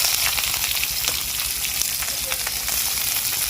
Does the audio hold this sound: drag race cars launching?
no